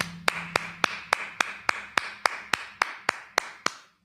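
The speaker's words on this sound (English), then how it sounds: "Clap it up." A series of about thirteen sharp, evenly spaced claps, like a congregation clapping together at a Sabbath service, sounding close and crisp with a steady rhythm over a faint low background hum.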